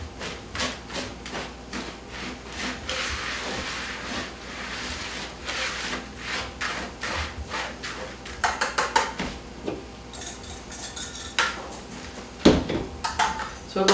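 Home cooking, ingredients being mixed in a bowl with a steady run of scraping, clinking and rubbing strokes of a utensil that grow sharper and more clattery toward the end, with no voices over it.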